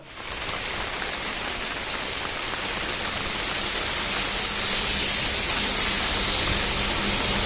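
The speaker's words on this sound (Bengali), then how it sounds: "তো কিছুক্ষণের মধ্যেই একদম কাছেই চলে এলো বৃষ্টিটা" Heavy rain moving in over a dense jungle area: a steady, dense hiss with no voices that grows a little louder midway and then holds strong.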